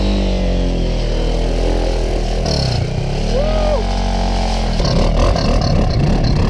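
Motorcycle engine droning loud and close as the bike rides through a river ford in Iceland, with a steady low rumble, a brief shift in pitch, and splashing grit toward the end.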